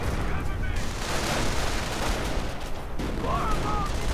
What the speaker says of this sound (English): More artillery, more chaos.